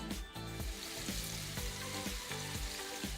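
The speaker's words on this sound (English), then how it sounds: "Step 1 was put the bacon in the pan, so as that's cooking" Bacon frying in a pan, a soft steady sizzle with faint rhythmic clinks and knocks repeating every half second or so, fairly quiet and without voices.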